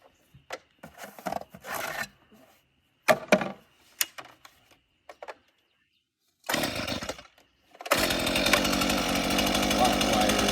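A Stihl MS 162 chainsaw starts up and settles into a steady, loud idle that runs continuously for the last few seconds, preceded by scattered handling knocks and a short earlier burst of engine noise.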